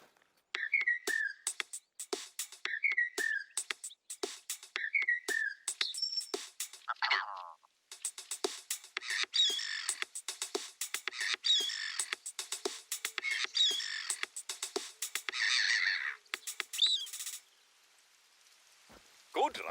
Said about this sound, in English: We recorded the call of some birds and made this.